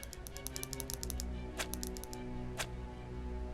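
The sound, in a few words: typing a character name in Persona 5 Royal video game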